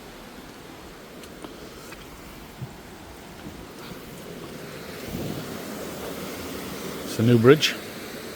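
Water rushes steadily through woodland along a river beside old gunpowder factory ruins, a continuous broadband flow under wind, with someone briefly speaking near the end.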